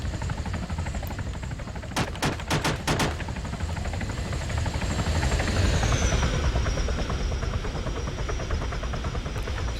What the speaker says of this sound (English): there's another helicopter just approaching. It's the Huron.